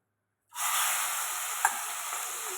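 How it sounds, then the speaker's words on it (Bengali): Prawns hit hot oil in a pan and set off a sudden loud, steady sizzle that carries on at close range, with a brief small pop partway through. "এবার তেলটা গরম হয়ে গেছে, এখন আমি এটার মধ্যে এক এক করে চিংড়ি মাছগুলো দিয়ে দেবো"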